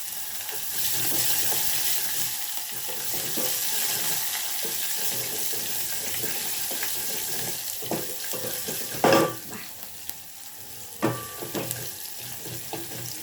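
Garlic and large onion crackle in hot oil as a tempering for a fenugreek and green lentil dish. A loud continuous sizzle runs throughout, with two sharper bursts of spatter near the end.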